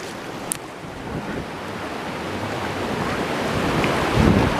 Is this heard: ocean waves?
yes